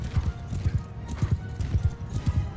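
Horses gallop in the Mount and Blade Bannerlord video game during a battle with horse archers, a rapid rhythmic clatter of hooves repeating in quick bursts, close and prominent, with a faint whinny.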